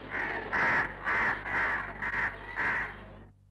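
A crow cawing as a sound effect in a radio play, about six harsh caws in a fairly regular series, close and clear, then silence.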